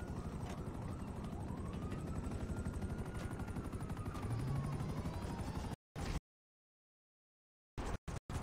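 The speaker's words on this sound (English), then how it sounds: "Hey, an attack helicopter." An attack helicopter in the video game GTA V, a steady loud rotor thrum with chopping pulses for nearly six seconds before the sound cuts out abruptly.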